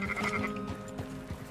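Sheep bleat in Red Dead Redemption 2 as a small flock is herded, several wavering calls overlapping close by over a low game background.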